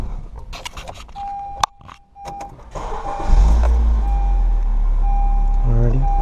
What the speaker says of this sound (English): we're gonna start up the car and let it run for